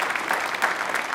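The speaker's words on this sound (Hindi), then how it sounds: "तालियां एक बार जोरदार होनी चाहिए" A studio audience at a televised quiz show applauds a guest with brief, dense, steady clapping at moderate loudness and no talk over it.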